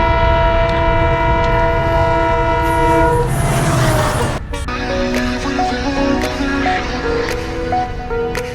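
A train passing near IGI Airport in Dwarka, its loud sustained multi-tone horn blaring up close before cutting off, then the rumble and clatter of rail cars rolling past.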